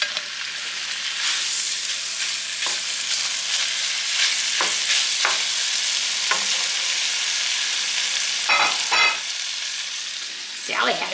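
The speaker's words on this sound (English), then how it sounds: "I'm going to sear this butter, get the temperature going up on it. Because I just want to get this meat" Steak searing loud and close in a pan of butter and bacon grease, giving a continuous crackling sizzle with several sharper pops and spits along the way. No voices are heard.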